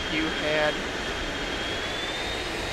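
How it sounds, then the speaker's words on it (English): Jet airliner engines in reverse thrust in the Immersive Vehicles game hold a steady, dense roar with a thin high whine above it, and a voice briefly talks over the start. "I guess I can use reverse thrust to get to the back of the runway"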